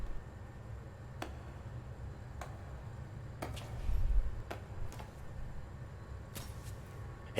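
A handful of slow, sparse claps, a sound effect in the game Metal Gear Solid 2, ring out one by one over a low, quiet hum, with long gaps between them.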